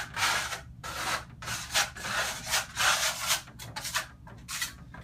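A steel trowel drags fine Marmorino grassello lime plaster across a wall in close, raspy scraping strokes, about a dozen uneven passes in five seconds, each a short swish with brief gaps between.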